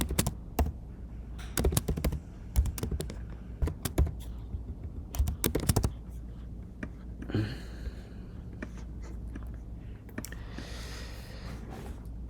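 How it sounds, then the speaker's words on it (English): Typing on a computer keyboard at close range, irregular bursts of sharp key clicks with short pauses between them, plus a few softer rustles and faint background hum, no voices. "So I typed in the original formula"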